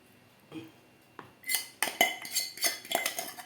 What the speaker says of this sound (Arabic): هقلب الكشك بتاعي لحد ما يربط معايا